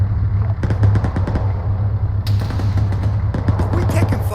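Rapid bursts of automatic gunfire crackle through a military video game, several rattling volleys over a steady engine-like hum.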